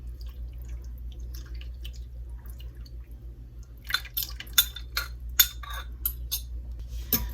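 Barbecue sauce and water poured over pork belly in a pan: a quiet stretch gives way to wet drips, splats and a few light clinks of utensils against the dish, close and intermittent, with no voices.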